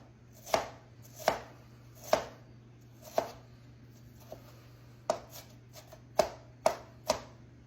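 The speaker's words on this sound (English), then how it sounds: "We'll give it a coarse chop right quick." Coarse chopping of celery stalk and onion on a cutting board: about ten sharp knife strikes at an uneven, unhurried pace, close and clear over a steady low hum, with no talking.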